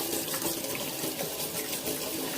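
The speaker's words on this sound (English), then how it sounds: "put some water in the sink, probably like lukewarm, I think." Tap water running into a sink for soaking yarn in a dyeing session, a steady splashing stream close by, constant and fairly loud.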